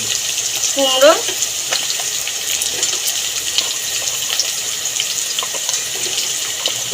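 Pumpkin pieces dropped into potatoes frying in hot oil for kumror chokka, a brief louder burst near the start, then a continuous bright sizzle with crackles held at an even level, close by and free of speech.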